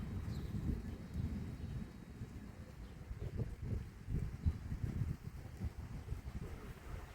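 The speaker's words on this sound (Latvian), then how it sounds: "Baigi rūcina pērkons." Low, distant thunder rumbles on and on with no clear break, fairly faint, mixed with soft wind noise.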